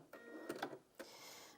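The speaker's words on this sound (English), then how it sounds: "a little cutter shoots out underneath from the side and trims the thread" The automatic thread cutter on a Janome DKS100 sewing machine fires to trim the thread: a brief, quiet mechanical whir followed by a couple of sharp clicks and a final snap, all close by.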